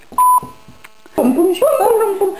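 A voicemail beep sounds after a spoken Danish answering greeting: a short, loud steady tone near the start, then scattered clicks and silence before voices and music begin.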